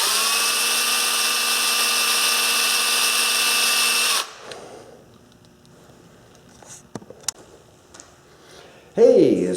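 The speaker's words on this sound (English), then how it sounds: "we'll give her a final spinny with the drill here and" A power drill spinning a repaired gearbox whines steadily at close range for about four seconds, then cuts off, leaving quiet clicks and handling noises.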